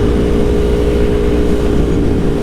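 A motorcycle is ridden hard along an open stretch of road, giving a loud, continuous engine drone with a steady harmonic whine and wind rush under it, holding at a constant pitch with no speech.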